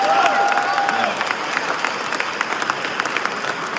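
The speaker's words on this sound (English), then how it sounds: "I just want to give a huge round of applause" Audience applauding at Brooklyn Public Library, a loud sustained round of clapping with a faint whistle-like tone early on, tapering slightly toward the end.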